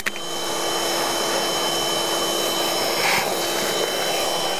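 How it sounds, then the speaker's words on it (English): A shop vacuum clears scraped wood debris from a rotted exterior door frame, a steady loud whine and rush running unbroken from start to finish with no talk. "Vacuum that up."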